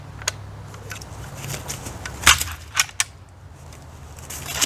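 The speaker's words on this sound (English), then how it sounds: "Now show us the special way you clear a jam." Sharp metallic clacks and snaps ring out as a Cetme LC battle rifle's jam is cleared, a few irregular bolt and action impacts spaced over several seconds against quiet outdoor background.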